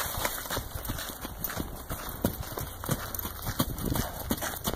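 Horse cantering in a riding session, repeated hoof thuds in a steady rolling rhythm, moderately close, with some background noise and no talk during the stride.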